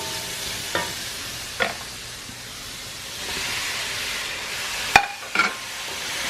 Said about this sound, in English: in here I have the onions and the garlic. And then I will add the tomato.